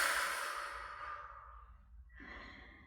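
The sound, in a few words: deep exhale during breathing exercise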